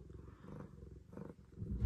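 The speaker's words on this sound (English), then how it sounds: "But listen to her purr." A cat purring steadily up close, a low rumbling rhythm rising and falling with each breath, growing a little louder toward the end.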